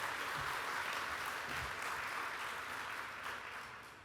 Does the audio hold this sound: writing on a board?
no